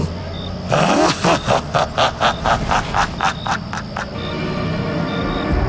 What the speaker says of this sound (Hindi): गगन ने गाड़ी तेज भगानी शुरू कर दी।